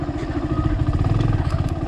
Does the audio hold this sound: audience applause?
no